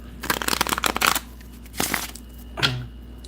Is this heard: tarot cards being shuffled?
yes